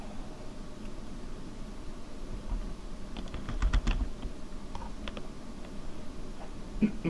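Someone types on a computer keyboard while writing PowerShell code, faint scattered key taps with a brief quick burst in the middle, over a low steady room hum.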